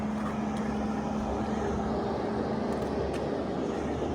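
Steady broadband traffic noise from vehicles on a busy road at a hiking-trail road crossing in the Laurel Highlands on a rainy day, a continuous rushing roar with a faint low hum, no distinct single pass-by standing out.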